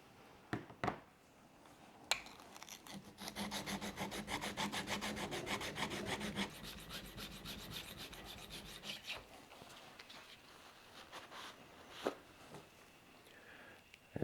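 The back of a steel chisel is rubbed flat on a sharpening stone in quiet, close, rhythmic back-and-forth strokes for several seconds, with a few isolated clicks before and after.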